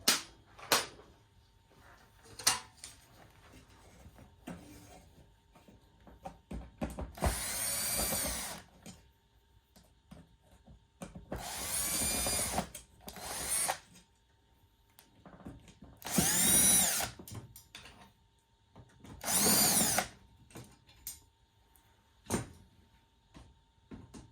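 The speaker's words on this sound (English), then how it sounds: "So let's take the rest of the screws out." A power drill backs screws out of the coin mechanism housing on a 1951 Vendo 39 Coke machine, four loud whirring bursts of a second or two each, separated by quiet pauses and small clinks of parts.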